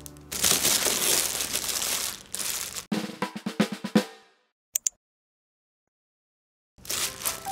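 Paper and packaging crinkle loudly as a COFFEE KOGU coffee server box is opened, in dense rustling bursts that break into sharp crackles, fall silent with a couple of small taps, then resume.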